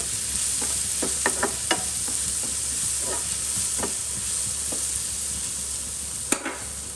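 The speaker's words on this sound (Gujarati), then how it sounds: "બધા મસાલાને સારી રીતના મિક્સ કરી દઈશું." Roasted, crushed fennel, cumin and coriander being stirred in a pan with potato and onion kachori filling, giving a run of soft scraping strokes over a steady low hum, close and moderate, with no talk.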